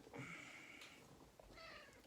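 A kitten gives a couple of short, faint meows indoors, two quick calls separated by a brief pause, quiet and close.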